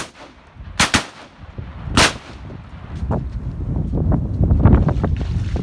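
Two loud shotgun blasts fired at mallards during a Wisconsin duck hunt in a blizzard, sharp reports close together followed by a third single shot, with gusting wind noise roaring over the microphone throughout.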